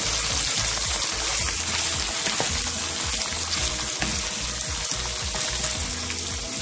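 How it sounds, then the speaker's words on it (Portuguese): Chopped vegetables sautéing in a hot pan for a cuscuz farofa with hearts of palm, giving a steady, close, even sizzle and hiss that runs throughout without talk. "Eu vou deixar ela refogar só um pouquinho antes de colocar o palmito."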